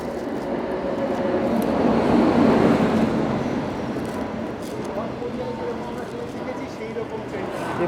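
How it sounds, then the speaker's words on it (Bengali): A Chinese express train rolls into a station, its broad rumble swelling and then easing as it pulls in, with people talking nearby over the noise. "এই দেখুন চায়নার এক্সপ্রেস ট্রেন ঢুকছে"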